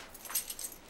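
Car keys jangle in a short, faint metallic rattle lasting under a second, with a few light chinks.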